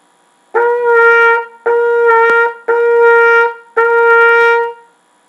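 Four sustained trumpet notes on the same pitch, each about a second long with brief gaps, the tone colour shifting slightly within each note from a diphthong vowel change.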